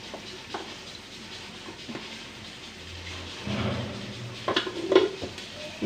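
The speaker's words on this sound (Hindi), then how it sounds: "घी हमने डाल दिया इसके अंदर।" Ghee goes into meat in a cooking pot while arbi fries nearby, first as a low background hiss, then as a louder sizzling surge with clinks and scrapes of a utensil against the metal pot.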